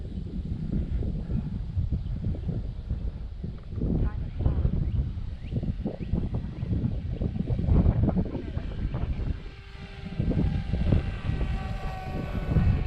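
A Strix StratoSurfer FPV RC plane flies in gusty weather, its buzzing electric motor droning steadily under heavy wind buffeting on the microphone, with talking heard over it.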